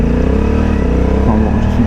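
A touring motorcycle, a Yamaha Tracer 9 GT or Honda NT 1100 in sport mode, accelerates hard on a bumpy road with a loud, steady engine drone that rises in pitch, heard close up.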